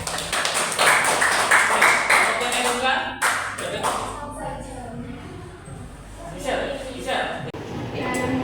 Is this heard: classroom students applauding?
yes